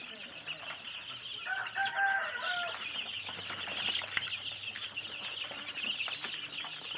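Chickens clucking and murmuring softly at a distance, with a brief higher call partway through, over a faint background hum.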